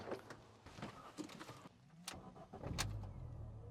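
MINI Cooper engine starts during a power steering fluid service: a few clicks and clunks, then a brief crank and the engine catching into a low, steady idle, with no talk.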